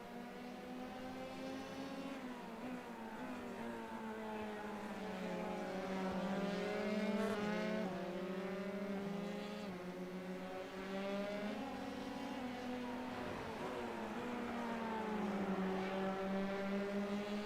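Formula 3 race cars in a sim racing game running side by side, their high engine whine droning steadily and rising and falling in pitch through gear changes for the whole stretch, loud and close with no talk.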